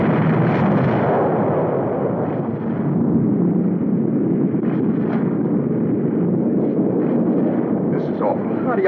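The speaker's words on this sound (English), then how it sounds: "How do you like them guys bombing San Francisco yet?" Continuous loud rumbling of bombing explosions from a 1952 film, a dense roaring wash with a few sharper bursts over steady low noise.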